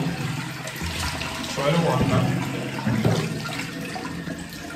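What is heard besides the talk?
tap water running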